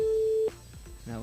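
A telephone call to a radio listener, with a steady ringback tone at the start, then a short pause and faint line noise, and a voice beginning to talk near the end.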